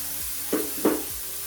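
Thinly sliced onion sizzles quietly in oil in a frying pan, a soft steady hiss with two short louder bursts of stirring partway through.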